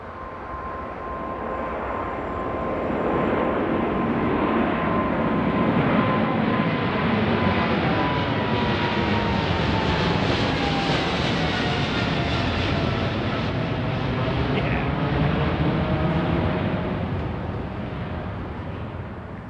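Boeing 787 Dreamliner taking off from runway 09R at Heathrow, a loud, close jet roar that swells, holds for much of the run and slowly fades as it climbs away.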